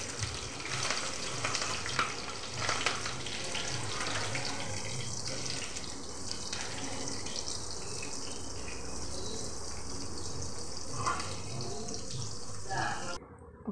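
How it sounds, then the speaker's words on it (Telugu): Long-sliced onions and a spoonful of tempering seeds fry in hot oil for a bitter gourd and tomato curry, giving a dense, steady sizzle and crackle that runs unbroken from start to finish. "అలాగే పొడుగ్గా కట్ చేసుకున్న ఆనియన్స్ని వేసుకోవాలి."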